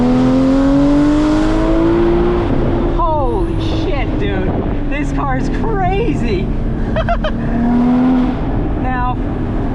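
Porsche Cayman GT4 with a 3.8-litre flat-six revving hard while being driven, a steady engine drone rising and falling in pitch, loud and close with wind noise and an excited voice talking over it.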